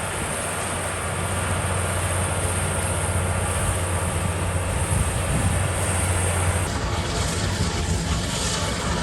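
The Mount Washington cog railway train passes close by, giving a steady, loud mechanical roar and rumble that holds for several seconds before shifting in tone near the end.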